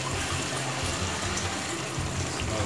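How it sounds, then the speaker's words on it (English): Water pours steadily into a pan of Polynesian pork chops, about a quarter cup added while cooking, a continuous close splashing gush lasting a few seconds with no talk. "I'm gonna add like about 1/4 cup of water."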